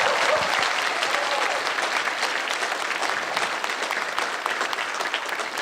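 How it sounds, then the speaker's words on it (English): A luncheon crowd honoring school paraprofessionals gives steady, sustained applause, a thick field of hand claps that continues evenly and slowly thins out, with no talking over it. "let's give our paraprofessionals a big round of applause"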